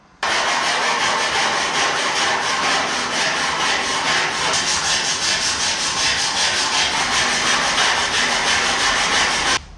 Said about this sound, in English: You see me kind of filing vigorously here.